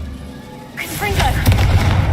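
Confringo fire spell cast in Hogwarts Legacy, a bursting blast that swells and lingers with crackling, booming rumble after a quieter lead-in, close and fairly loud.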